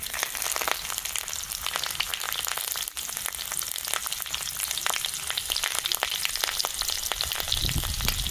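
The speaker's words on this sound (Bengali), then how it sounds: "কড়াতে একটু সর্ষের তেল দিয়ে দিচ্ছি কাঁচা লঙ্কা চেরা আছে আর পাঁচ ফোড়ন আর তেজপাতা দিয়ে দেবো" Slit green chillies, panch phoron and bay leaf fry in mustard oil in a kadai, giving a loud, continuous sizzle and crackle close by, with no talking.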